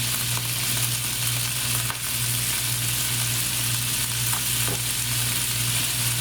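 Chicken stir fry sizzles steadily in a pan over high heat, a dense continuous hiss with a low hum beneath and no talking.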